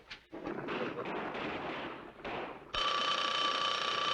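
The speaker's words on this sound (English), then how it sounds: "Answer the phone, will you, Murr?" In a 1970s sitcom office, a telephone bell starts ringing partway through with a loud, steady metallic trill, after a stretch of rough background noise.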